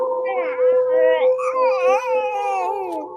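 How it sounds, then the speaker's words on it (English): A dog howls along with a TV theme song, its long wavering tonal howls rising and falling over the steady melody for several seconds, close and fairly loud. "She tried to howl with the wolf."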